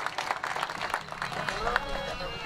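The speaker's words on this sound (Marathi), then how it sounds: "एकदा जोरदार टाळ्या वाजवून त्यांचं स्वागत आपण या ठिकाणी करूया" An audience at a women's group bhajan competition claps loudly to welcome a guest, a dense sustained burst of applause over a crowd, with a voice talking over it.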